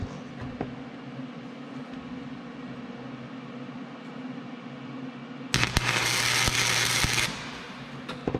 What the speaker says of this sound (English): Now I'm just going to do some of the tack welds to hold it in place.